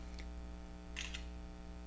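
An LG Optimus G smartphone camera fires a brief shutter-like click and chirp about a second in, faint and close against a steady low electrical hum, with no talking.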